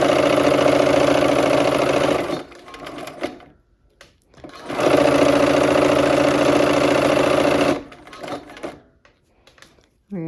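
A sewing machine stitches quilt rows together in two long steady runs of rapid mechanical whirring, each stopping abruptly, with quieter handling pauses between and after them.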